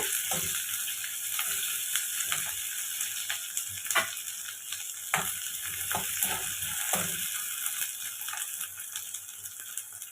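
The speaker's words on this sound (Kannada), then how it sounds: "ಇದು ಜಾಸ್ತಿ ಫ್ರೈ ಆಗೋದು ಬೇಡ, ಸ್ವಲ್ಪ ಕ್ರಿಸ್ಪಿಯಾಗೇ ಇರಬೇಕು" Prawns deep-frying in hot oil until crispy, a loud, dense, continuous sizzle with scattered pops and crackles, plus occasional scraping or stirring clicks.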